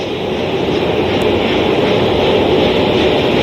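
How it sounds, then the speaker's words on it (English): The Artemis I rocket's four RS-25 core stage engines roar at launch, a loud, dense, continuous rumble with steady broadband hiss that holds throughout without any voices. "The 4 core stage RS-25 engines gimbaling around, testing the ability to steer the rocket into space."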